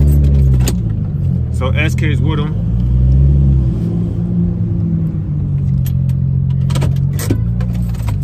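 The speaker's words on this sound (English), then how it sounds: "I'm moving my car, man." A car's engine idles and rumbles low and steady while it is being moved, with someone talking close over it throughout and brief jingling near the start.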